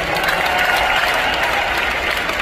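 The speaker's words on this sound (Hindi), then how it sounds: "जोरदार तालियां सबके लिए" Dense, steady applause from a live comedy show audience at a Couple Sharma performance in Chicago fills the whole stretch, loud and close, with no voices standing out.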